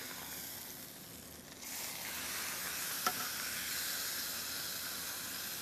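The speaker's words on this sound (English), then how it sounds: "because I want those nice grill marks, I'm going to turn the steak" A steak sizzles steadily on a grill just after being turned, a continuous bright hiss that holds at an even level, with one brief sharp tick partway through and no talking.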